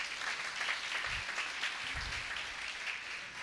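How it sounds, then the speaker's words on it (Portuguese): Steady applause from a church gathering, fairly quiet and continuous, with a couple of low thumps partway through and no talking over it. "Aplaudo o Senhor por isso, amém."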